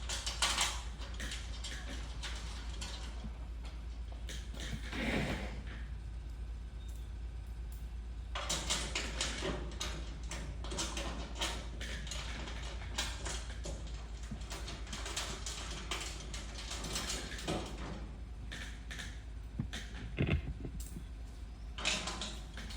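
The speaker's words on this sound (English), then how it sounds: "Now we can go ahead and just run the rest of the bolts in any combination is okay." Bolts being run in by hand while assembling a Catch Pro Urban Assault series trap, giving scattered metallic clicks, taps and ratcheting scrapes at close range over a steady low background hum, with no talking.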